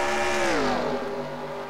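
A stock car in NASCAR Racing 2003 at Pocono passes close by, a loud harmonic engine whine that drops steadily in pitch as it goes past, with no voices.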